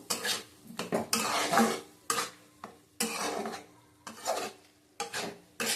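Spoon scraping and clattering against a pan while a curry is stirred and sautéed over low heat, in repeated bursts of metallic scraping separated by brief pauses, close and alone.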